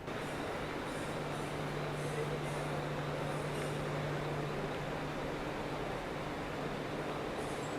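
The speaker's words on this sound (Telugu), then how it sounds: "ముంబై సిఎస్ఎంటి రైల్వే స్టేషన్లో ఉన్నాను" Steady, dense hubbub at Mumbai CSMT railway station with a constant low hum and a distant murmur of crowds and machinery, no distinct voices standing out.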